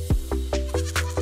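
Goats bleating on a farm in Muranga County, Kenya, beside the River Sagana, a close, loud series of short bleats repeating roughly every fifth of a second with no talking.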